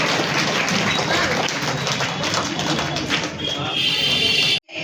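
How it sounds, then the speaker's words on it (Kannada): A crowd at a high school opening ceremony in Teradal claps loudly for the minister, a steady, dense wash of applause that holds for several seconds and then cuts off abruptly. "ಜೋರಾಗಿ ಚಪ್ಪಾಳೆ ತಟ್ಟುವುದರ ಮೂಲಕ"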